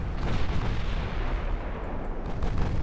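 Naval artillery fire in the warship game Ultimate Admiral Dreadnoughts: a dense, continuous rumble of heavy gun booms with no clear gaps, loud and full throughout.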